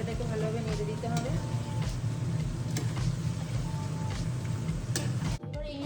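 Kolkata-style mutton biryani masala being stirred in a frying pot, giving a steady close sizzle with soft scraping throughout, then a brief sudden drop near the end.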